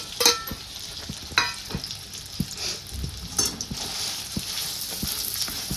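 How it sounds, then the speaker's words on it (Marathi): Potato stirred and fried in ghee in a pan, a continuous sizzle broken by repeated scraping and knocking of the spoon against the pan, close and alone. "दोन मिनिटासाठी आपल्याला छान असं तूप आणि बटाटा मिक्स करून घ्यायचं आहे"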